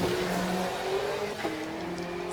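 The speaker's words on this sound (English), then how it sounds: "ZL1 banging gears." A 6th generation Camaro ZL1 at a drag racing event, its engine roaring loudly and continuously with rising pitch sweeps and a sharp break near the middle as a gear change bangs through.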